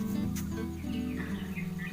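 Small birds chirp and twitter near a garden at morning as they gather over scattered rice to feed, a steady soft chatter over a low constant hum.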